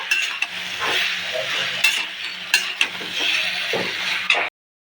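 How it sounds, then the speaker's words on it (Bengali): Ground spice paste sizzles steadily in a pan while a spoon stirs and scrapes through it, with occasional sharp clinks. It is cooking for a dish of Malabar spinach shoots with small fish, and the sound cuts off abruptly near the end. "এরপর বাটা মশলাটা দিয়ে দেব মশলার সাথে কিন্তু ভালো মতো কষিয়ে নিতে হবে"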